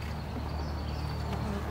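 Bees buzzing around a hive while a nuc is installed, a steady close droning hum with insects near the beekeeper, constant and fairly loud throughout.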